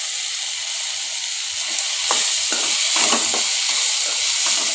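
Eggplant sautéing in a pan for kathirikai chutney gives a steady close sizzle and frying hiss, with a few scrapes and stirs of a spoon coming louder in the second half.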